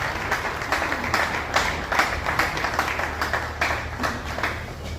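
Applause and acclamation from a crowd at the official launch of an NGO, a steady mass of clapping with some individually distinct claps, moderately loud over a low rumbling background.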